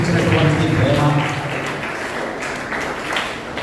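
A church congregation applauds, a dense even patter of many hands clapping at moderate distance that fades slightly toward the end.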